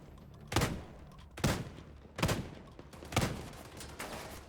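Video game gunshots aimed at the player, four sharp heavy shots spaced about a second apart, close and loud with no talk over them.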